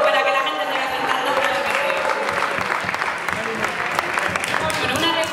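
Audience applause at a band's concert presentation session in a packed hall, strong and continuous, mixed with crowd voices and singing.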